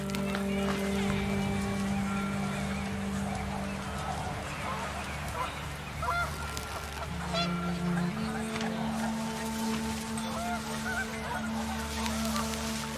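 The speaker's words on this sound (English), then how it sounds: "The wind picked up and panicked geese appeared and quickly went." Panicked geese in the What Remains of Edith Finch video game honk amid a dense, continuous wash of game ambience, with steady tonal hums and scattered cackling calls running throughout at moderate loudness.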